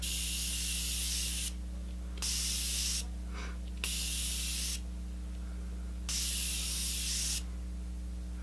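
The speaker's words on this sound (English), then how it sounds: "it's just a microfine mist that sets liquid or powder makeup, continuous spray" Several bursts of fine misting spray from a makeup setting spray, each a steady hiss lasting about a second, separated by short pauses over a constant low electrical hum.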